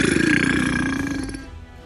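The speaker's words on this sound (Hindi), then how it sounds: "तभी उसके मुंह से एक जोरदार डकार निकलती है।" A man lets out a loud, long, low croaking burp up close that fades over nearly two seconds.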